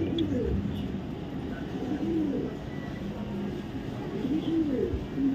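A young female racing pigeon coos nearby in repeated soft, low rolling phrases, each a few seconds apart, over a steady background hum, with no talking.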